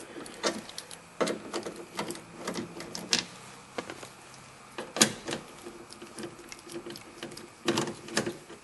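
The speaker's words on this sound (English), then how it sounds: "So we just unscrew all the bolts to hold the speaker" Bolts holding a speaker in a Ford F150 door panel are unscrewed with a power tool in short whirring bursts, separated by clicks and pauses, quiet and close.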